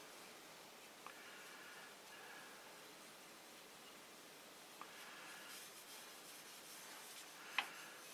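Soft cloth rubbing the last of an abrasive paste off a food-safe wood finish, a quiet, steady scrubbing hiss with a few faint taps, heard alone and close.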